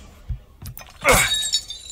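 An object is smashed open in Resident Evil Village, giving a loud, close glassy shatter with tinkling debris ringing on afterward, preceded by a couple of soft dull knocks.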